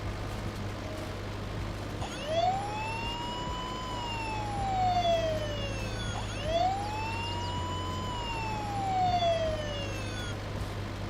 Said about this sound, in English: We're going to hear the sirens for a little while.